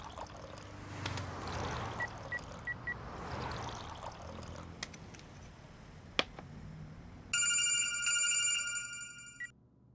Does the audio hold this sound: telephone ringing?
yes